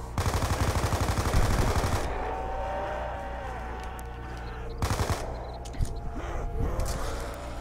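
Rapid automatic gunfire in Black Ops 2 Zombies, a fast steady burst for about two seconds, then game ambience and a second shorter burst followed by scattered shots, with a voice talking over it.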